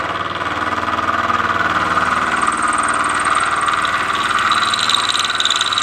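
Machining tool cutting metal at a 1/16 inch depth, a steady droning whine with a constant mechanical hum throughout, close and unbroken.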